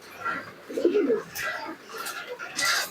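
Pigeons kept at a home loft coo in soft, low bursts while they feed, the calls rising and falling close by over a few seconds with light background rustle.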